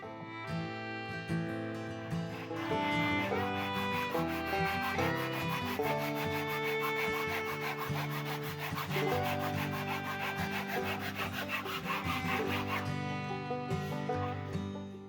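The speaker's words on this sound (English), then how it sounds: "now going to use a handsaw to cut this piece off, allowing the lid to fit." A handsaw cuts through a wooden box piece with rapid, rhythmic rasping strokes, close and loud, running continuously for most of the span before easing off at the end.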